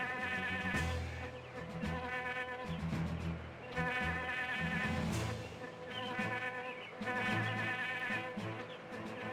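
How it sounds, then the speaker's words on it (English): Bees in the fantasy role-playing game Septerra Core, a faint buzzing drone with a pulsing rhythm, swelling and fading in regular waves alongside game music. "We're slowly getting poked to death by bees."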